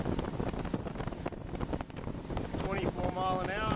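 A boat with a DTS MerCruiser engine cruises at a held speed of about 24 mph, giving a steady, loud, continuous drone mixed with wind buffeting the microphone; a faint voice-like tone surfaces near the end.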